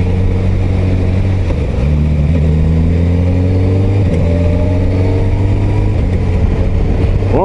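A Suzuki GSX-S 1000 GT motorcycle accelerates uphill, its engine revving loud and close with rising pitch, broken by quick quickshifter gear changes at about two and four seconds before it climbs again.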